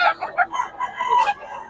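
Rooster crowing nearby in a Filipino poultry setting, a clear rising and falling call with several stuttering syllables, loud and close.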